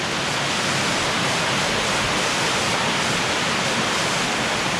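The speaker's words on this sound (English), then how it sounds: "with these little cascades in the foreground, and then the main waterfall up there." Juan Curi waterfall in Santander, Colombia roars as a steady, dense wash of falling water, loud and continuous, with no voices.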